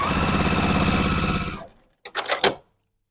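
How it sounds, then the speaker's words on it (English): Sewing machine stitching quilt block pieces, a fast loud mechanical rattle that runs for about a second and a half, stops, then gives a few short bursts. "we're going to sew that on real quick"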